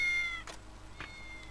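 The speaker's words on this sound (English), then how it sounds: "Meow." A cat in the video game Ryu Ga Gotoku Ishin gives a short series of meows, a clear call followed by two briefer mews, close and alone over faint game background.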